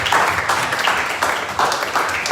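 A church congregation claps in praise during a prayer service, loud, close, rhythmic applause in regular bursts, with voices mixed in.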